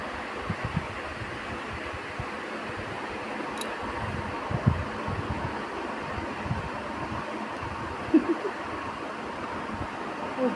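An electric ceiling or room fan runs in a hot room, giving a low, steady whir and airy hiss that continues evenly throughout, with a few faint soft bumps and no talking.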